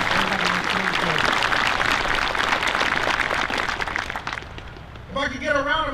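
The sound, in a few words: audience applause at Marine Corps cake cutting ceremony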